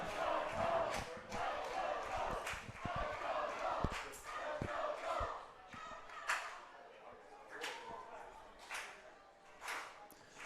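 Away fans at a Newport Gulls collegiate baseball game against the Bristol Blues cheer and clap in bursts from the stands, with sharp claps and shouts rising and falling over a few seconds alongside a nearby voice.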